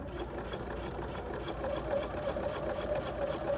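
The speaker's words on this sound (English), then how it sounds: "Go all the way around and back stitch when you get back to the end." A sewing machine runs steadily for a few seconds as it stitches around the edge of a quilted fabric piece, a constant close-up mechanical whir with a faint rhythmic knock.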